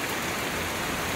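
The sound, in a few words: rain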